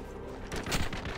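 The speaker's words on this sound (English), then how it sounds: "Bullets." Gunfire from the video game E.T. Armies comes as a short, dense burst of rapid shots that swells in the second half of the brief moment, loud and close over a noisy background.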